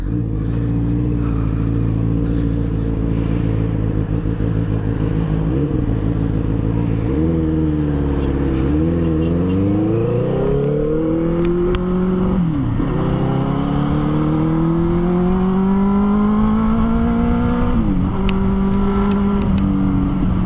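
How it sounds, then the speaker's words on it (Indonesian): A Benelli TNT 600 inline-four motorcycle engine revving repeatedly, its pitch climbing and dropping through several throttle blips, loud and close, with a smooth multi-cylinder whine. "kalau kalian dengar suaranya tuh agak beda ya, karakteristik 4 silinder inline 4 pada umumnya ya"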